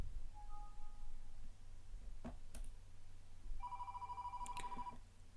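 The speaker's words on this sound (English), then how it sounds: "you can probably hear the call ringing now" Inbound call ringing softly at a call centre, a faint electronic ring tone with a couple of clicks, heard quietly over low room hum.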